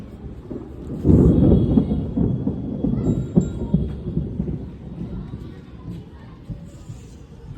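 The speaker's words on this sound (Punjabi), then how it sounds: "ਬੱਦਲ ਪਤਾ ਕਿੰਨੀ ਜੋਰ ਨਾਲ ਗਰਜ ਰਿਹਾ" Thunder rolls during heavy monsoon rain over flooded Punjab, a deep rumbling peal that swells sharply near the start, then grumbles and fades slowly against faint background sound.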